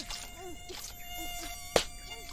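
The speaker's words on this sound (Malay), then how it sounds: "Ish, banyaknya nyamuk." Mosquitoes buzzing in an animated cartoon scene, heard as a thin, steady, high whine that hangs faintly over quiet background sound for the whole moment, with a brief sharp tap near the end.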